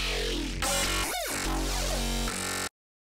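A dubstep sound-design source sample taken from a bass jam: a dense, loud, heavily processed tone with swooping pitch bends and shifting textures. It runs continuously for about two and a half seconds, then cuts to silence.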